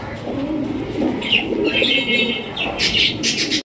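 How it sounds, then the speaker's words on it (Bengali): Pigeons on a breeding farm cooing nearby, soft repeated low coos, followed near the end by a few brief rustling bursts that may be wing flaps, with no one speaking. "ভাই নতুন কবুতর"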